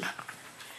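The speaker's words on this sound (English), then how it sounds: "the dog keeps biting me" A wolf pup whimpers and yips softly while biting at a person in a guesthouse, a short, faint, breathy whine with a couple of quick catches and no speech over it.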